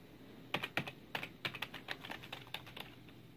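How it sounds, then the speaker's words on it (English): Keys clatter on a Corsair K55 computer keyboard, a close run of quick irregular clicks, sharper at first and then lighter, in a quiet room. "Watch when I type."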